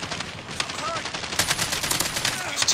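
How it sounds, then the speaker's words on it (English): Rapid AK-47 automatic fire rattles in a Call of Duty Mobile multiplayer match, bursts of sharp shots growing louder partway through, with faint game voices in the mix. "Gunshot!"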